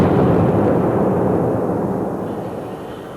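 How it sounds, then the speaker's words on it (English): Gas explosion inside a flameproof Ex d enclosure with a deliberately damaged flanged joint: one loud, deep, broadband blast that rumbles and fades slowly over about three seconds. "we will deliberately damage the flanged joint to demonstrate what can happen if there is an explosion with a damaged flame path"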